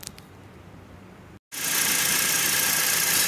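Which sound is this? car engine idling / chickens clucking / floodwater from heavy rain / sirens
car engine idling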